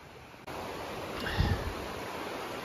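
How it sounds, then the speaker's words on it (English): A creek flows beside a hiking trail in Banff National Park, giving a steady, broad rushing wash of water that swells in as the listener turns toward it, with no voices. "I can already hear the creek over here just sounding off."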